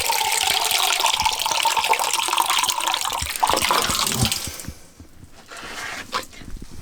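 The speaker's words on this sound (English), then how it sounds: "this water would go on my head. This is what a bucket shower is." Water is poured over a person's head during a bucket shower in Africa, giving a steady, loud splashing gush for about four and a half seconds before it tapers into scattered drips and trickles.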